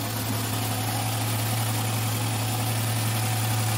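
A Nissan X-Trail T31 engine idles after being started while it is checked following overheating, giving a steady, continuous low hum throughout with no voices.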